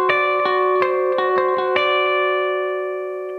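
A bright, twangy electric guitar picks a quick country lick in D, then lets the final chord ring out and fade.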